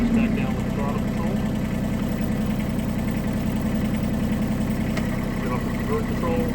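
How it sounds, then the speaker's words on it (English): A Huayee HY16c mini excavator's engine runs at a steady low idle after the throttle is brought down, a continuous close diesel rumble with faint vibration and no clear change in pitch. "Bring the RPMs back down with the throttle control."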